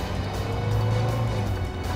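A car driving fast in pursuit of a truck, with a steady, loud engine drone and road roar that holds throughout without a break.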